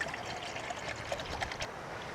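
At a campsite, water trickles and pours into a cup for steaming eggs, a quiet, steady splashing stream lasting a couple of seconds with no voices.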